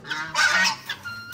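Partridges and hens let out of their coop, giving loud, close honking squawks in a few short bursts.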